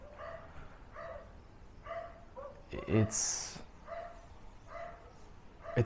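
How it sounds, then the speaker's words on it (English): A dog barks repeatedly in the background, a steady series of yips and barks spaced about a second apart, mid-distance and moderately loud, while someone talks over it. "That fucking dog is annoying."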